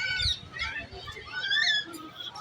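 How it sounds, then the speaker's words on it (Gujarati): A couple of parrots perched in a large yellow tree give short, bright, squawking calls in quick succession over faint outdoor background. "આમાં એક બે પોપટ બેઠા છે આ યલો ઝાડમાં"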